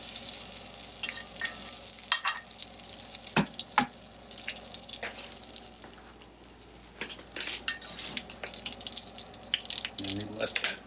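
Wagyu beef sears in a pan, a crackling sizzle with sharp spits and pops throughout, while people talk over it.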